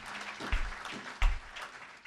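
A church congregation clapping at a healing service, moderate applause with two stronger bursts of claps, heard at a middle distance in a reverberant room.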